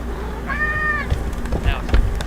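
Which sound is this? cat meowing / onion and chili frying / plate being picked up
cat meowing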